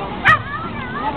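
Dogs at a street-dog adoption event, one sharp bark followed by faint yips and whimpers, heard under someone talking steadily.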